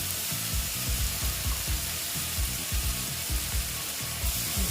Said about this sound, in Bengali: এটা একটু ভেজে নেব দেখো এখানে একটু জল দিতে হবে তা না হলে পুড়ে যাবে